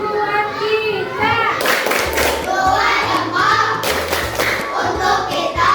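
Group of children clapping hands in a classroom, bursts of claps with a voice talking over them, close and lively throughout.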